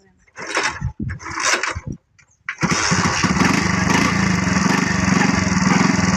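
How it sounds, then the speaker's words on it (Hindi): A motorcycle engine, just repaired, sputters through a couple of failed cranks, then catches and settles into a steady, loud idle that runs close by to the end. "सुधर गया मोटरसाइकिल? हाँ। बिल्कुल फिट है। स्टार्ट करो।"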